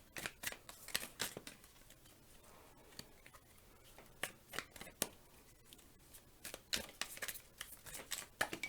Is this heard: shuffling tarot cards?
yes